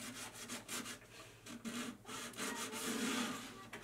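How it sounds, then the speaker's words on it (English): Sandpaper rubbing back and forth over the legs of chalk-painted furniture to distress it, a steady run of close, gritty strokes with a brisk rhythm and no talking. "I'm going to run our sandpaper over that."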